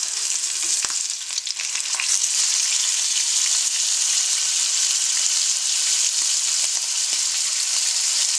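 A single scallop sizzles loudly in a hot pan just after being flipped, a steady close frying hiss with a few small pops and a brief clink near the start.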